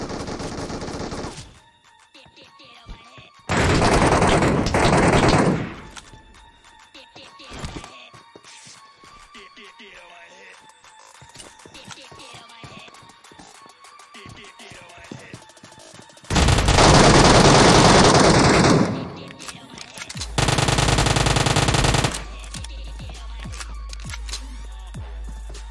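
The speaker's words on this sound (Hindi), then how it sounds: "गोलियां चल रही थी" Bursts of rapid gunfire in BGMI, several loud sustained volleys separated by quieter stretches of background sound and voices.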